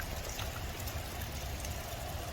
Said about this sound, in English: You can hear the sound of the rain.